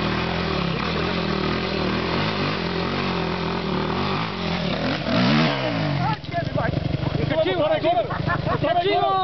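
A motorcycle engine revs hard alongside shouting voices and crowd noise at an outdoor race meet, with rising throttle sweeps near the end.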